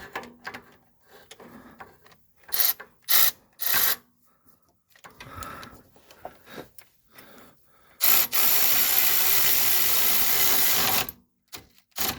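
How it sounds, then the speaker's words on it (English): Bolts being worked with hand tools during a Chrysler 300 starter replacement: short, close bursts of clicking and rattling, then a louder, sustained grinding whir lasting several seconds before stopping. "Now I will go behind it with a ratchet and tighten those up"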